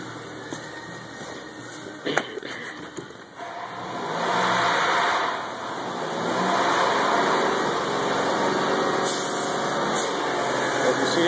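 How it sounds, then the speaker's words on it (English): A Chrysler Pacifica 3.5 engine with a blown head gasket revs up from idle, rising to a sustained whine that dips and climbs again, with speech heard over it. "As you see this time when I'm revving up"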